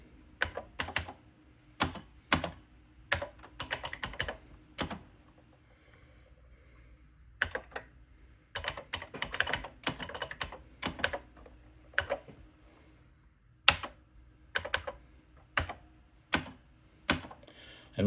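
Keys clatter on an Atari 8-bit computer keyboard in irregular bursts of close, crisp clicks, with short pauses between groups of keystrokes.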